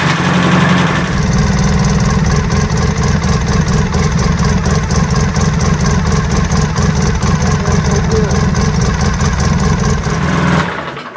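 A Polaris ATV engine, just given an oil change, starts up after a brief moment and idles loudly and steadily with a close, even rumble, then cuts off right at the end.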